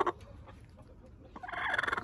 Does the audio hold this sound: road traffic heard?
no